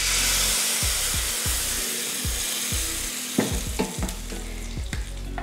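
Hot oil tempered with mustard seeds, asafoetida and curry leaves hisses loudly as it is poured into peanut chutney, a dense steady sizzle followed by a few crackles and spoon taps against the vessel.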